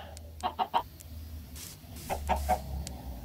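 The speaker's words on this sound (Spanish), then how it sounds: "Un pollo." Chicken from the video game Minecraft clucking in two quick bursts of three or four short, close clucks each, over a low steady background hum with no talk.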